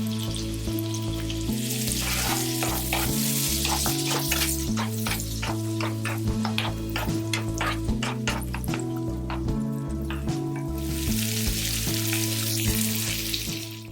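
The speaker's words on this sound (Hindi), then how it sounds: "बटर में इलायची को डाल देंगे। उसके बाद ऑनियन ऐड कर देंगे।" Onion frying in butter with cardamom for paneer korma, a steady close sizzle crackling throughout, with a low hum of stovetop or kitchen noise underneath and no voices.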